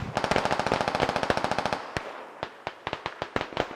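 A machine gun fires in the video game Squad: a rapid unbroken burst of sharp shots at first, then scattered single cracks and short bursts with gaps between them, loud and close, with no speech.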